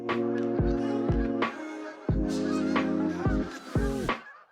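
Several geese honk in loud, harmonic calls, repeating in bursts with brief gaps and some calls overlapping, close and clear with no talking.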